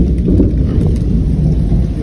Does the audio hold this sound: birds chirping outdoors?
no